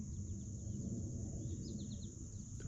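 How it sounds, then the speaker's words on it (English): Several birds chirp and trill in the distance, including purple finches, doves, blue jays and cardinals, with short repeated high calls over a steady outdoor background hum at State Game Lands 280, Berks County. "Lots of birds in the background."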